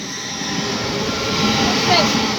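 Two high-speed trains, an LNER and a Lumo, rush through Northallerton station in a loud, sustained roar of wheels and rushing air that swells toward the end, with a voice exclaiming briefly over it.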